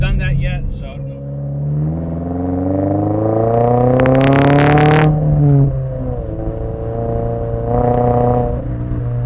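Toyota GR86 fitted with a Remark single-wall axle-back exhaust, revving up and settling back, a loud close engine tone that climbs to a peak then falls, with a short blip near the end.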